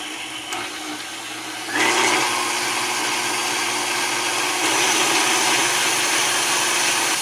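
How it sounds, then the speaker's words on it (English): An electric mixer with a whisk attachment beats a cup of whipping cream and powdered sugar in a steady, close whirring drone that rises sharply in loudness just before two seconds, then runs on evenly. "So here is the mixer again with the whisk, 1 cup of whipping cream."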